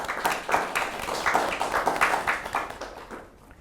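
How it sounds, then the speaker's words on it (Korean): An audience at a disability rights forum claps in a dense burst of applause that gradually fades out. "큰 박수로 환영해 주세요."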